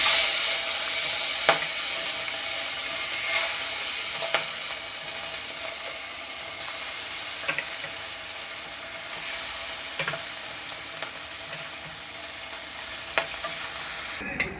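A fresh batch of small puti fish fries in hot oil, sending up a continuous close sizzle punctuated by several sharp clicks and spatula taps against the pan, with no one speaking.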